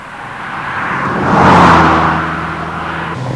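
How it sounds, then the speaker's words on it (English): A 2.0 litre turbocharged MG Montego climbs a hill in fifth gear, its engine a steady low drone that swells as it nears and then eases off, with no talking. "Fifth gear, straight up this hill, no problem at all."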